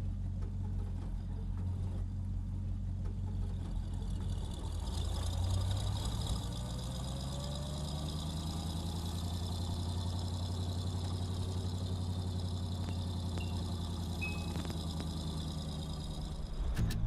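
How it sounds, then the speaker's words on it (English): A muscle car engine idles with a steady low rumble and a deep, even hum that holds for the whole stretch at moderate level, with no voices. "Sorry, got my attention with the muscle car."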